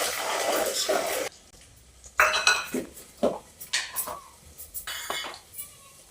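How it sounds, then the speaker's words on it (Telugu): Peanuts, chana dal and garlic are mixed in a pan for tamarind rice (pulihora). A loud rustling scrape comes first, then a short pause, then a run of close, irregular metallic clinks and scrapes of a spoon against the pan. "అన్నీ వేసుకొని మంచిగా కలుపుకోవాలి."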